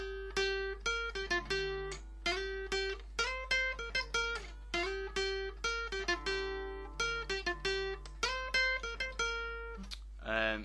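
Acoustic guitar strums out the intro riff of a song, a steady run of plucked and strummed chords played alone and fairly quietly, with a low steady hum underneath.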